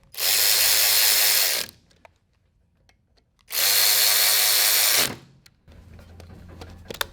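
A power ratchet tightens the flywheel on a Tillotson 212 engine, whirring loudly in two long bursts of about a second and a half each, with quiet clicks and shop sounds between them.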